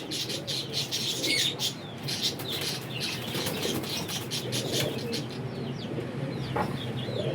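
Flock of flying pigeons kept for racing, with steady fluttering wings and scattered squawks and clucks of fowl close by, a continuous busy chorus with no talk.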